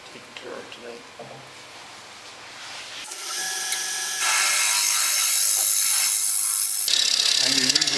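Wood bowl turning on a lathe with a scraper: a quiet start with talk, then a loud, steady broadband cutting hiss that swells and stays strong to the end, broken by a brief pause near seven seconds.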